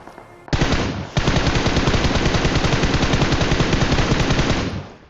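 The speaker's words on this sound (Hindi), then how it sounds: "अभी भी इधर से भी जो है फायरिंग आ रही थी" Sustained rapid automatic gunfire in a battle royale video game firefight, loud and dense for several seconds after a brief quieter lead-in, with no talk over it.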